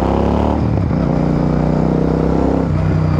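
A Royal Enfield Super Meteor 650 cruiser motorcycle under hard braking, its engine note dropping and rumbling steadily at close range, loud and continuous without talk.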